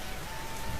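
Steady rain pours down outdoors beside a street food cart, a dense, even hiss with no voices, close and continuous for under a second.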